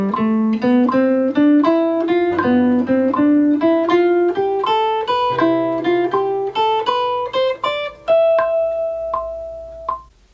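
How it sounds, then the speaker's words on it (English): Clean jazz guitar plays ascending scale runs from the third of each chord over a ii–V–I progression, with steady plucked single notes climbing in pitch and ending on a sustained ringing tone. "Try starting on the 3rd, which would sound like this."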